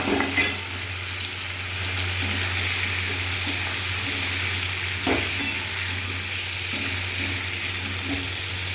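Okra with salt frying in a hot pan for a Bengali chorchori, a dense, even sizzle close up for the whole stretch, with a brief clatter of stirring near the start and middle, no voices.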